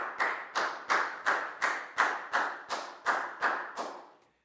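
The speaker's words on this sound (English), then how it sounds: "High five and a big round of applause for Pak Bung" A primary school class claps together for a student during a Year 4 maths lesson: about eleven sharp, evenly spaced claps in a steady rhythm, close and fairly loud, with no talking.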